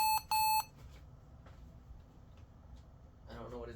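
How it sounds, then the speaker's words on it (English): A Lenovo ThinkPad X1 Carbon Gen 9 laptop beeps at boot, two short loud electronic tones close together, followed by quiet room noise and then a voice starting to speak. "I don't know what it's beeping about."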